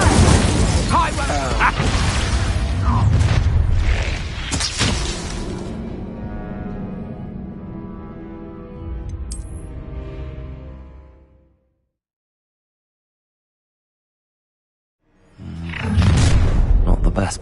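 A Bombarda blasting spell explodes in Hogwarts Legacy: a loud, sharp burst with shattering debris and a whooshing rumble that decays into quieter rattles before dropping to silence, then another loud blast erupts near the end.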